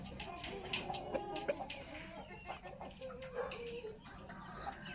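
A young Peruvian-type gamecock clucks in short, irregular bursts, close and fairly quiet, with a few sharper calls and light background noise.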